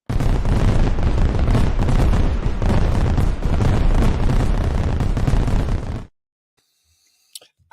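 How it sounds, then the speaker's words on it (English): Fireworks bursting in a dense, continuous barrage of loud booms and crackles for about six seconds at a Leitrim student enterprise county finals broadcast, then a sudden cut to near silence with a couple of faint clicks. "Let's get those fireworks going again,"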